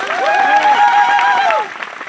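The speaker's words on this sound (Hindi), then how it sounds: "उनके सम्मान में जोरदार ताली चाहूंगा।" A hall audience claps loudly at a career opportunity programme speech, a sustained wash of applause that ends abruptly near the end. Tonal whoops or cheering voices rise and fall through it.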